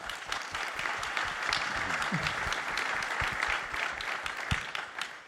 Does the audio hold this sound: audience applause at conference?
yes